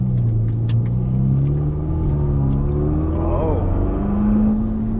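A Ferrari GTC4 engine revs and accelerates from inside the cabin, a loud, deep rumble rising in pitch through a gear, with a brief exclamation from an occupant over the engine.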